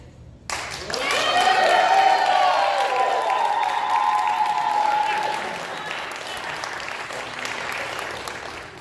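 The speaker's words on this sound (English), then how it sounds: "make sure you're generous with that applause" A TV studio audience breaks into loud, sustained applause with some cheering, swelling quickly and then tapering off slightly while continuing.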